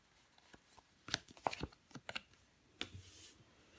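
Tarot cards are laid down and handled on a table in a few soft, scattered taps and slides, close and quiet, with brief pauses between the handling sounds.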